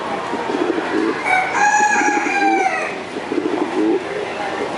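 A chunky, multicoloured pigeon at a bird-judging event gives a drawn-out, tonal call lasting about two seconds in the middle, close and fairly loud, with murmuring voices before and after.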